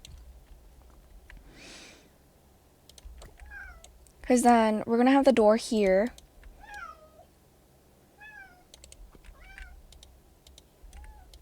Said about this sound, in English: I can't get my cat to be quiet.